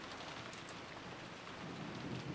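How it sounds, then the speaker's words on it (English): Steady rain with storm ambience from the visual novel Umineko: When They Cry, a continuous even wash of falling rain and wind with no voices. "she saw the winds and rain ravage it"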